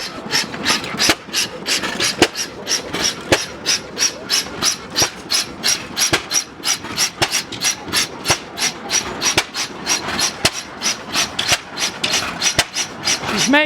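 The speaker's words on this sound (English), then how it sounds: "This time he's got the air compressor belted up to it." An engine-driven air compressor belted to an old engine runs at a show, giving a loud, close, steady rapid chuffing and knocking pulse with regular beats throughout.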